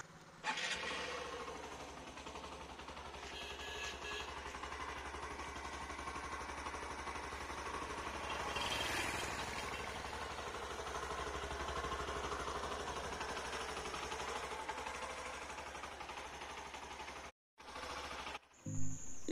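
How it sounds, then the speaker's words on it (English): A Hero Passion Pro BS6 motorcycle with a 110cc single-cylinder engine idles close by, its exhaust holding a steady low, even thrum that swells slightly midway, with a short break and a blip near the end. "Let's listen to the exhaust note of this bike."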